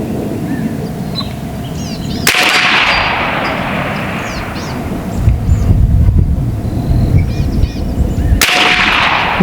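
A B&W Bin Tac S45 rifle fires at a 100-yard target outdoors: two sharp, loud reports stand out, each followed by a rumbling decay, over steady wind noise.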